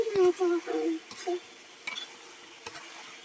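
A spoon stirs chicken curry with potatoes in a pan, giving a few short clinks and scrapes early on, then quieter scattered taps against a soft background.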